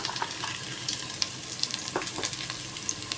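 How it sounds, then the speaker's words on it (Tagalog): Mixed vegetables frying with dried fish in a pan, a soft continuous sizzle with scattered light pops and crackles, heard close and alone. "Para maprito ng konti"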